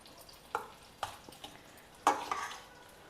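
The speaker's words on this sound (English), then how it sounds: "Now add in the required quantity of this curry leaf powder and mix it all well together with a light hand." Cooked rice tossed with curry leaf powder by hand in a vessel, a few soft scraping stirs and light clinks with quiet gaps between, close and gentle.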